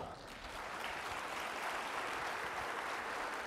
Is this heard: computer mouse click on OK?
no